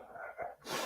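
A single sharp sneeze bursts out after a brief breathy intake, close and fairly loud, with no talking.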